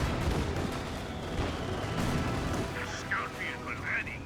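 An anti-tank gun fires in the Company of Heroes 2 video game, with booming blasts over a rumbling battle backdrop while a voice talks throughout.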